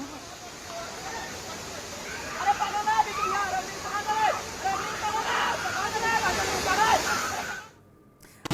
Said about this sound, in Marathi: नदीला महापूर आलाय, त्यामुळे पाण्याचा वेग सुद्धा प्रचंड पाहायला मिळतोय